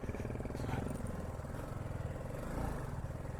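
BMW sports motorcycle engine running at a steady mid-pitched throb, close and continuous with a slight swell in revs, no other sound on top.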